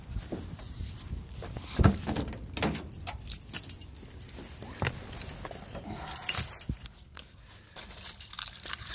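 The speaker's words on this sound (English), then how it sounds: "Take some of these keys off." A ring of keys on a breakaway keychain jangles and clinks repeatedly up close for several seconds, in bursts of rattling metal with a few sharper knocks and no talking.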